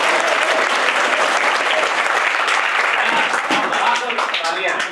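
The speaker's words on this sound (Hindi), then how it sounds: "क्या उसके लिए इतनी तालियां बजेंगी क्या?" A large crowd applauds at a coaching institute gathering, the clapping dense and loud, keeping steady for about five seconds, with voices mixed in underneath.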